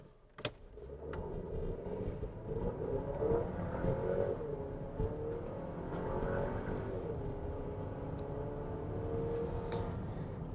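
A 2025 Chevrolet Traverse High Country launching from a stop to 60 mph, its engine note rising in a continuous, steady run with a few shifts, heard from inside the cabin.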